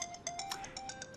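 A phone ringtone plays a quick, repeating run of bright melodic beeps, fairly faint and steady throughout a short stretch of a TV drama scene, with no talking over it.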